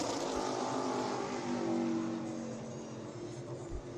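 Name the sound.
race car driving a qualifying lap at Five Flags Speedway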